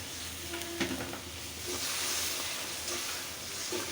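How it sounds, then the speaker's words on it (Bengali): Spice paste stir-fried slowly in a pan before taro is added, a soft, fairly faint sizzle and hiss with a few light stirring scrapes, no voices. "এখন আস্তে আস্তে একটু মশলাটা কষাবো"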